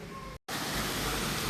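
An artificial waterfall in a butterfly garden pours with a steady, close broadband rush of falling water, briefly cut off once before resuming at full strength.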